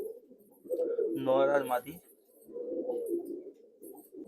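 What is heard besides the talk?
breeding pair of Madras pigeons cooing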